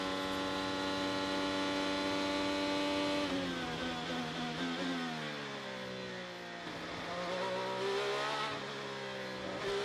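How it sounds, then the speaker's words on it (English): Onboard engine of an IndyCar at the 2023 Gallagher Grand Prix, Indianapolis Motor Speedway, a loud sustained high-pitched drone that dips in pitch and then climbs again as the car powers down through a turn, with no voices. "Graham Rahal, just listen to the power down"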